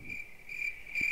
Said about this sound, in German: dass man die Grillen immer hört.